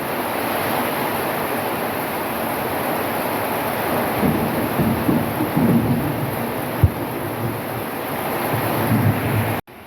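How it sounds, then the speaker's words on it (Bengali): Heavy rain pours outdoors as a dense, steady roar with low rumbling like distant thunder and gusts of wind, continuous and loud throughout, with no voices. "আর এখন প্রচণ্ড বৃষ্টি হচ্ছে"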